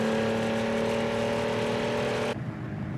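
Car engine at sustained high revs as the driver floors the accelerator in a tuned street car on a highway, a loud steady roar that cuts off abruptly near the end.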